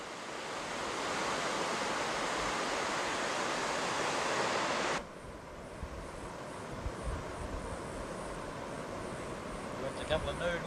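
Beach surf at a campsite by a dry creek bed roars as a steady, loud wash of waves, then cuts off abruptly midway to a quieter outdoor ambience with scattered knocks.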